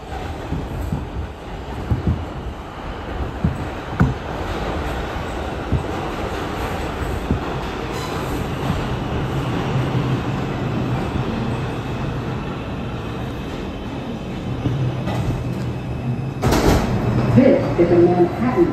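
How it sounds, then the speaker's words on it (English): Steady rumble and clatter of a New York IRT R142 subway train on the 2 line riding through Brooklyn, continuous rail noise with occasional wheel squeal and a brief louder burst near the end. "This is a Manhattan-bound 2 train."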